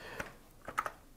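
Keys clacking on the keyboard of a 1985 Brother WP-1 word processor, a few separate keystrokes followed by a quick cluster of three, close and fairly quiet.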